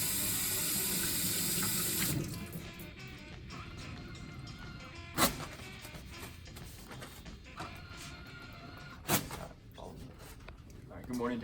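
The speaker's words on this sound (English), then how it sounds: "Of course, start by washing my hands." Tap water runs loudly into a sink for about two seconds while hands are washed, then shuts off, leaving faint splashes, drips and a few knocks as a person speaks.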